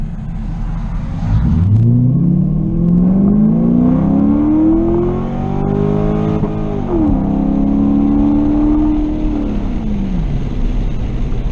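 The Chinavette's engine revs up loudly from low, climbs steadily, then drops sharply as it shifts into second gear at about three-quarter throttle and pulls on again before easing off.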